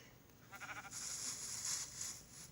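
A sheep bleats in a video game, its wavering bleat rising through the middle of the short stretch against a quiet background with no talk.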